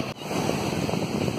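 Ocean surf breaks and washes on the beach at Kua Bay in a steady broad roar, with wind buffeting the microphone and a brief dropout near the start.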